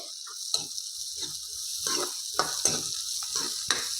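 Finely chopped onions fry in a pan alongside ginger and green chilies, a soft constant sizzle broken by repeated scraping strokes of a spoon stirring them.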